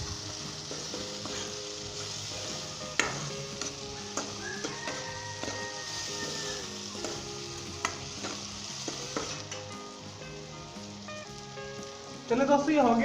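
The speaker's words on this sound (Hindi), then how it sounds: "जस्ट 1 से 2 मिनट हम इसे फ्राई करेंगे।" Aloo moongray sabzi of potatoes sizzles and fries steadily in a pan, with repeated scraping and clinking stirs throughout and a louder burst of sizzling at the end.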